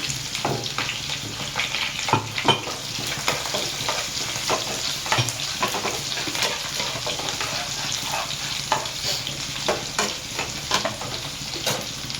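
Garlic fries in hot oil with chillies for a dried bombil chutney, giving a steady crackling sizzle punctuated by sharp, irregular scrapes and knocks of a stirring spoon against the pan.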